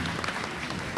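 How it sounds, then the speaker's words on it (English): A luncheon crowd applauds the gift certificate winners, a brief burst of dense, steady clapping filling the room with no talk over it. "let's give all of the winners a big round of applause"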